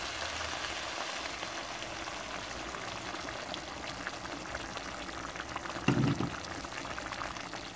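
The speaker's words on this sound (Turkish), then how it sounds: "Biraz su ilavesi yapalım." Water is poured into a pot of zucchini that is already cooking, giving a short splashing burst near the end over a low, steady bubbling simmer.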